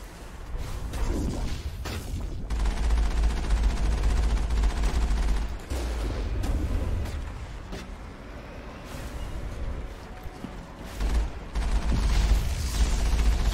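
A prolonged firefight in the video game Mass Effect, dense bursts of automatic fire and impacts running almost unbroken, loud and close with short gaps between volleys.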